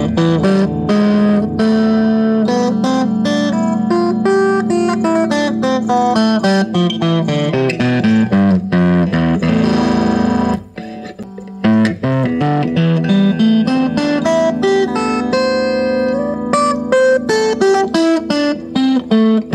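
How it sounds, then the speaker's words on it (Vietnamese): An electric guitar is played through a PlayTech Jammer Jr mini amplifier on its distortion setting, with dense, heavily distorted riffs and chords that sound loud and harsh throughout, broken by one brief pause. "Distortion của nó rất là rè và mạnh và lực."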